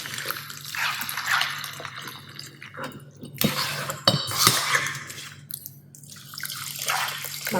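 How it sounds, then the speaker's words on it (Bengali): Water is poured into a pot of minced meat, chana dal and salt for kabab polau, then stirred in, giving intermittent splashes, drips and scraping clatter close by with no talking. "এখন পানি দিয়ে আমি মিলাবো।"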